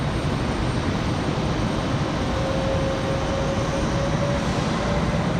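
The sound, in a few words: aircraft taxiing at Raleigh Durham airport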